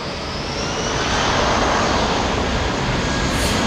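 A Middle East Airlines jet at Heathrow makes a loud, steady broadband roar that swells slightly and holds throughout, close by, with no voices.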